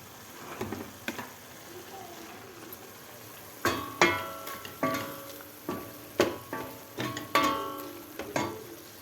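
Onions frying in a home pan give a soft sizzle, broken by a string of sharp clicks and scrapes as they are stirred, fairly quiet and close, with no talking.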